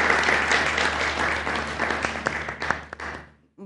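Audience applause at an Eid mushaira, a poetry recital, fills the hall as a sustained wash of clapping that swells and then thins into scattered claps before fading out.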